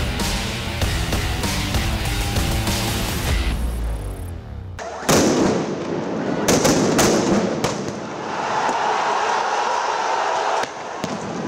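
Police fire rubber bullets, tear gas shells and sound grenades at a BNP political rally clash in Bangladesh, with loud sharp bangs and booms over dense outdoor crowd noise and rumble.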